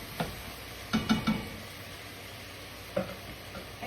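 Half an onion sizzles in a pan with already cooked ground beef, giving soft frying hiss and a few brief stirring clicks and taps, quiet and close.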